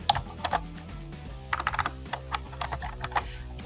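Keys on a computer keyboard click in irregular bursts of close, crisp taps over a faint steady hum, with no one speaking.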